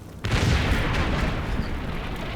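A Panther tank fires on infantry in the World War II tactics game Combat Mission: Red Thunder, one sharp loud cannon blast that swells into a long rolling boom and reverberates without fading away.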